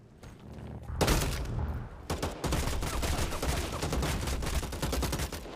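Rapid, loud shotgun blasts from a pump shotgun in the video game Bloodhunt, firing in dense overlapping bursts that begin sharply after a quiet first second and continue through the rest of the firefight.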